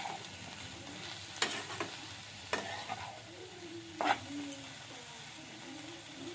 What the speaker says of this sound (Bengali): এবার তেলের সঙ্গে শাকটাকে ভালো করে মিশিয়ে দেবো।